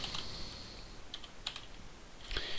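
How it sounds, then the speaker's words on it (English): Rapid typing on a computer keyboard while writing TypeScript code for a WebGL game engine: close, crisp clicks in quick bursts with short pauses between them. "Wow, I can't type tonight."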